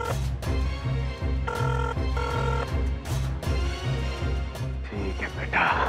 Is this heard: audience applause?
no